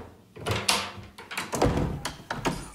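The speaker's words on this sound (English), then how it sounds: "locked doors." A locked door is tried and rattled with a flurry of knocks, thunks and clattering handle jolts, loud and close, in an uneven rhythm with no talk.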